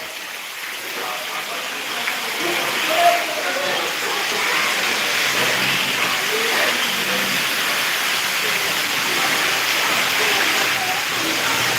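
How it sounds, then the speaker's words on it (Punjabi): Steady, dense hiss of heavy rain pouring continuously, loud and close, with no pauses throughout. "ਮੀਂਹ ਬਹੁਤ ਪਾ ਰਿਹਾ"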